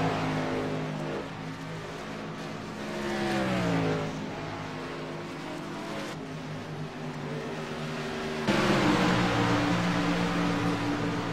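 Race cars on a track roar steadily at full throttle, engine pitch rising and falling as they circle, with a louder surge near the end.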